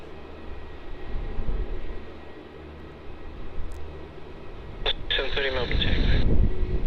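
A departing airliner rotating off the runway at Melbourne Airport, its engine roar a steady, distant rumble under wind noise, with a radio voice cutting in toward the end.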